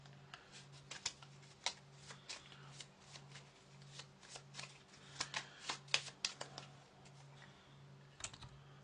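Board game uncertainty cards are shuffled close by, a run of crisp riffling snaps and soft card slaps in irregular bursts over a quiet low hum.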